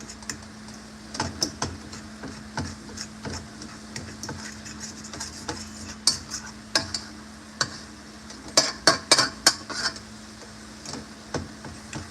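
A fork scrapes and taps against a Teflon pan while stirring ground beef, giving scattered clicks and scratchy ticks over a steady low hum, growing busier toward the end, with no talking.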